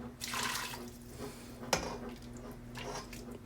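Chinese soup stock ladled off carefully with a wok ladle: soft liquid sloshing and dripping close by, with one sharp metallic clink of the ladle midway, no voices.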